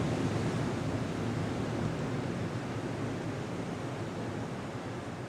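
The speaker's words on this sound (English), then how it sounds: "I love the surf. I can watch it for hours." Ocean surf at Legian beach in Bali, a steady broad wash of waves rolling in, moderately loud and continuous with no distinct breaks.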